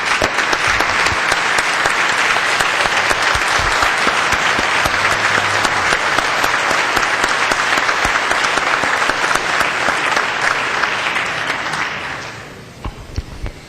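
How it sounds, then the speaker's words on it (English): Sustained applause fills a state House legislative chamber, a dense, steady wash of many hands clapping at full volume for about twelve seconds before tapering off into a few scattered claps. "I'd like to give him a round of applause."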